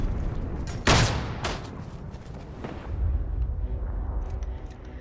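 Gunfire from a pistol in the video game Isonzo: one loud, sharp shot near the start, then fainter follow-up cracks and distant battle rumble fading into the background.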